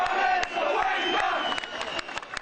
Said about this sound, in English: Police were watchful as the crowd jeered at the Premier standing in their midst.